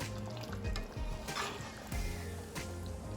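Jamaican oxtail with butter beans in a pressure cooker pot is stirred over a steady sizzle, with a few scraping passes and soft liquid churning up close.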